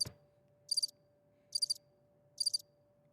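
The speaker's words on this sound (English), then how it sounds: "Yep. Crickets." A cricket chirps in three evenly spaced trilled bursts over a faint steady tone, quiet and alone, with no voices.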